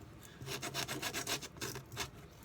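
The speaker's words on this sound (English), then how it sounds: "sand the area so it becomes rough and contact will stick well" Sandpaper rubs back and forth over the worn surface of a skate shoe, quiet rhythmic scratchy strokes in quick succession, close up and alone.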